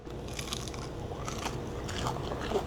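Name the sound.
biting into crispy tater tots, crunching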